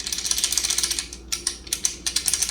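Rapid plastic clicking and rattling in quick bursts from a Weapon R Dragon air intake part, close and fairly loud, with brief pauses between runs of clatter.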